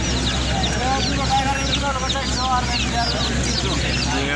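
Many chickens and chicks, including Tiger and layer breeds, cluck and cheep together at a bird market in Mirpur 13, Dhaka, a steady dense chorus with a low background hum.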